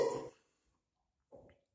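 A short, low belch after drinking carbonated cheap cola, a brief throaty burst followed by a softer second burp about a second later, close and alone in quiet.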